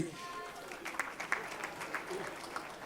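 An audience claps for a rapper at a live show, with scattered hand claps and crowd noise, a few sharper bursts standing out from a steady background.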